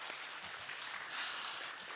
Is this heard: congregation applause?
yes